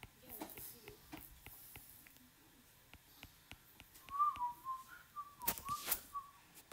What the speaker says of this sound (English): Please stop whistling.